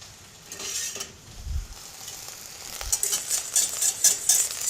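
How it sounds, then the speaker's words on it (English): Sauce for pork chops simmering and reducing in a pan, a soft steady sizzle with a few low bumps of stirring or pan handling, growing slightly livelier toward the end, close and fairly quiet with no talking. "the sauce is almost reduced to about half, to the point where we want to add butter."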